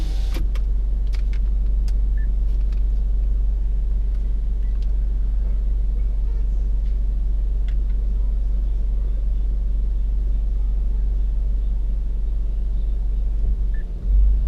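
Car driving through New York City traffic, a steady low engine and road rumble from inside the cabin, constant throughout with faint clicks and small rattles above it, easing near the end as the car waits at lights.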